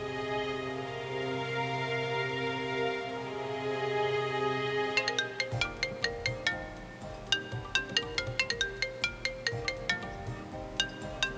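A phone rings during an outgoing call in a Hindi TV drama scene: a sustained melodic ringtone tone at first, then a run of bright, regularly spaced pinging notes, clear and fairly loud, with no one speaking.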